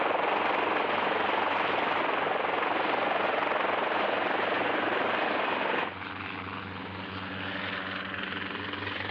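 A helicopter's steady rotor and engine roar fills the air, loud and continuous, then shifts to a lower, throbbing tone near the end.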